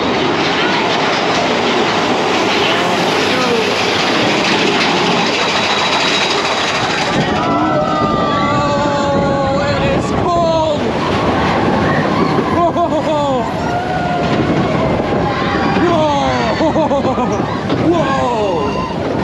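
Big Thunder Mountain Railroad coaster train at Walt Disney World's Magic Kingdom, ridden from near the back row at night: a steady loud rumble and clatter of wheels on track with squeals and a crowd of riders cheering and shouting throughout.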